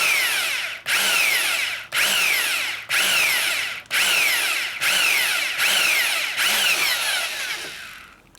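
A power drill bores into metal during a motorcycle motor repair, whining in about eight repeated bursts with short gaps between them, loud and close, with no talk.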